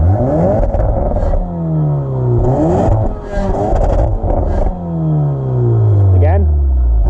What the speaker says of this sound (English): Can you do the exhaust one more time?